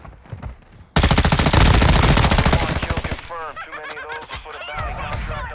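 Machine gun fire in a multiplayer shooter game: a loud, close, sustained burst of about two seconds, followed by people talking.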